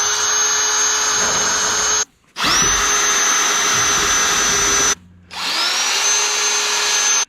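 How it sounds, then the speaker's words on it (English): An electric drill bores holes in steel pieces being bolted together, a loud sustained whine in three long runs separated by brief pauses, each restart spinning up in pitch before settling. "time to start drilling holes"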